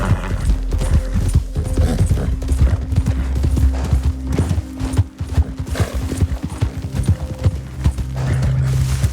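Horse hooves clip-clopping in a fast, steady gallop in the video game Red Dead Redemption 2, with occasional faint neighing and a low background drone throughout.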